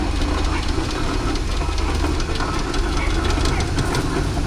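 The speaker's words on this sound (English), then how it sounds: "it's Greg Lunt's engine, which he's done most of the work on himself" An Aveling steam road roller runs at a steam rally arena at Tinkers Park near Hadlow Down, Sussex, giving a steady, dense mechanical rumble with a low chuffing pulse and no breaks.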